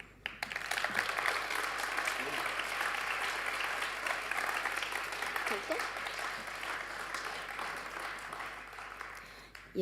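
A concert audience at a winter vocal festival in France applauds the sound engineer with dense, sustained clapping that stays steady for about ten seconds before cutting off, heard from within the crowd.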